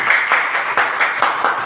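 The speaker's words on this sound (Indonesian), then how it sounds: "Ya, tepuk tangan untuk kita semua." An audience claps together in a brief, fairly steady rhythm, with dense overlapping hand claps and regular accented beats.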